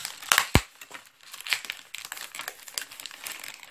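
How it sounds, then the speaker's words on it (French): Paper tags are torn and crumpled free from a mail package, a close, busy run of rips and crinkles with one sharp tear near the start. "je vais déchirer ça parce que j'arrive pas à la sortir"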